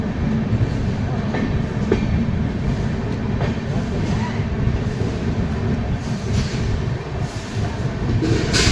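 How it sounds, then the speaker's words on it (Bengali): The Darjeeling Mail train, at Bardhaman Junction around midnight, gives off a loud, continuous rumble and rattle of rolling carriages, with faint clicks of the wheels running throughout. "রাত প্রায় 12টার সময় ট্রেন এসে পৌঁছালো তার ফার্স্ট হল্ট বর্ধমান জংশন"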